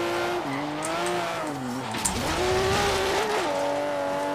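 Porsche sports car in Forza Horizon 3, tuned with a twin turbo and extra horsepower, revs steadily with engine pitch rising and falling while tires squeal through a drift, continuous and loud throughout.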